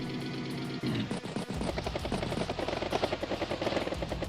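A transport copter in the turn-based strategy video game Advance Wars by Web gives a loud, rapid rhythmic rotor chop that kicks in after a short lead-in and pulses evenly to the end, with no speech.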